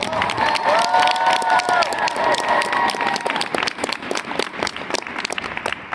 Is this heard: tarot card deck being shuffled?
no